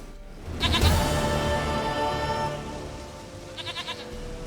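A goat in The Witcher 3 video game lets out one long, loud, wavering bleat that fades out, followed by a shorter, quieter trembling bleat near the end.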